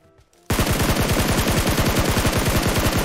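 Sudden, loud automatic gunfire in a video game erupts after a brief quiet moment and continues as a rapid, steady stream of shots.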